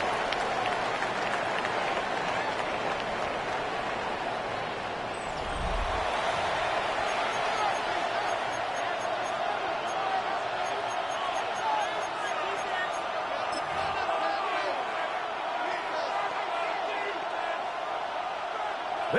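A packed NFL stadium crowd at a Colts vs Lions game roars and applauds in a sustained wash of noise with a couple of dull thumps, while a commentator speaks over it.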